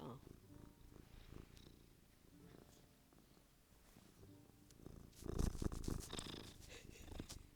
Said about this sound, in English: I got a little kitty purr for you there.